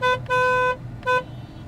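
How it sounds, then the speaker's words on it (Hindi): A 2024 MG Comet EV's horn honks three times, two short toots around a longer one, loud and close, as heard from inside the car. "ये जो हॉर्न है इसकी आवाज़ थोड़ी सी ऐसी है जो अंदर ज़्यादा सुनाई देती है"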